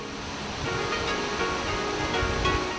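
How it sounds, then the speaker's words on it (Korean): Nachi waterfall in Wakayama, Japan, the tallest in the country at 133 m, a dense continuous roar of falling water with low rumbling swells, loud and unbroken. "나츠 폭포라는 이 폭포도 그중 하나입니다."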